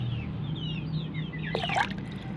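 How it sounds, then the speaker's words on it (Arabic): Vinegar pours into a container of water while mixing a homemade remedy for month-and-a-half-old native chickens, a soft continuous liquid trickle with a brief splashy burst near the end, close by, with no talking. "هحط بقى الخل على الميه"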